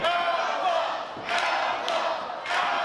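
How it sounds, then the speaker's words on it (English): Wrestling crowd chanting in rhythmic waves for the wrestler Outlaw, loud and reverberant in an arena, with a few thuds underneath. "Got an Outlaw chant going here."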